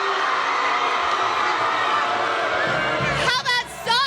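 A high school crowd at a morning pep rally roars and cheers steadily in a large room, loud and sustained, with shouted voices breaking through near the end.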